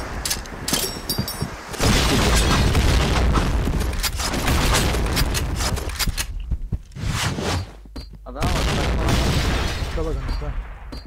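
Loud booming blasts and gunfire from the Point Blank shooter game in a ranked match, with a chaotic series of explosions and shots, under frequent talk from a player.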